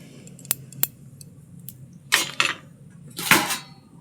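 A metal lid clatters down onto a cooking pot on the stove while chicken curry simmers with salt and turmeric, a few sharp clinks and scrapes in a quiet kitchen, with two lighter taps before.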